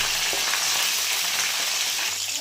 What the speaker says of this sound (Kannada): ಈಗ ಮೆಣಸಿನ್ಕಾಯಿ ಹಾಕಿದಾದ್ಮೇಲೆ ಒಂದು ಸತಿ ಚೆನ್ನಾಗಿ ಫ್ರೈ ಮಾಡ್ಕೊಳ್ಳಿ.